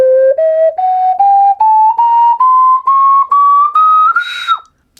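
Ocarina playing a rising scale of about ten breathy whistle-like notes, each short and separated by brief gaps, loud and close, ending in a slight squeak.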